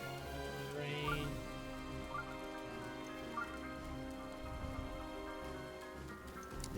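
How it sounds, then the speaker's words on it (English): Rain falls in Zelda: Breath of the Wild, a faint, steady patter of drops spread evenly across the stretch, with soft game tones and hums running underneath. "Rain."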